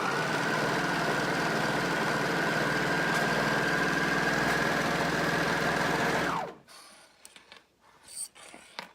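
A domestic sewing machine stitching along a garment hem gives a steady, fairly loud motor whir for about six seconds, then stops abruptly, leaving faint scattered handling sounds.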